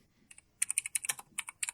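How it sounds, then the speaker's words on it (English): Rapid keystrokes on a computer keyboard, a quick irregular run of sharp, close clicks after a brief pause, heard alone without talk. "Just typing away on that computer."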